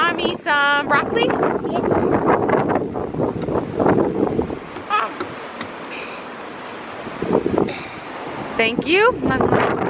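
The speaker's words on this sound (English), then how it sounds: "Oh, it's windy." Wind gusts buffet the microphone outdoors on a windy day at a sandy play area, a rough blustery rumble running under the voices of an adult and someone talking.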